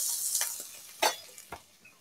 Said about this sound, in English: So I want this bacon, this fake bacon, to caramelize. I want the fat to render